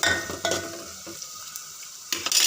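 A spoon stirs tamarind, tomatoes, chili powder, green chilies, onions, curry leaves and cumin in hot oil, giving a close, busy scraping sizzle with a few sharper clatters and a bright hiss near the end.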